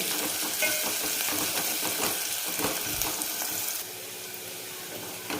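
Sliced onion fries in hot oil in a pan for a mutton curry, giving a loud, dense sizzle and crackle that drops to a softer, steadier hiss partway through.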